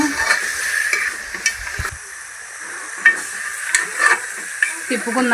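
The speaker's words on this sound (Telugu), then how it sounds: "ఇదిగోండి మాస వేస్తున్నా. ఒకసారి తిప్పుకుందాము." Mutton pieces coated in masala sizzle and hiss in a pan while being stirred, with scraping and stirring sounds rising in short bursts over a constant close frying noise.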